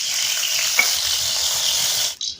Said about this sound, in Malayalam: ചട്ടി അടുപ്പിൽ വെച്ച് ചൂടായ ശേഷം വെളിച്ചെണ്ണ ഒഴിച്ചു കൊടുക്കുക.